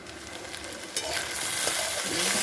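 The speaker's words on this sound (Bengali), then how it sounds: "গ্যাসটা হাই ফ্লেমে হচ্ছে, আবার ঢেকে দেবো, আবার নেড়ে দেবো ভালো করে।" Bottle gourd peel frying and being stirred in a pan over a high gas flame: a continuous loud sizzle that swells after a clatter of the spatula, with scraping stirs near the end.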